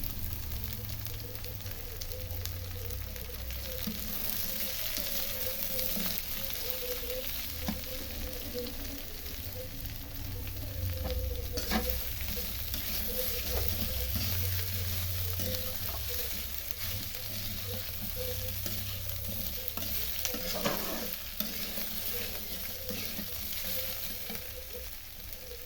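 Taro stolons sizzle and fry steadily in a hot pan, a continuous crackling hiss with occasional scraping from stirring, close and unbroken with no talking.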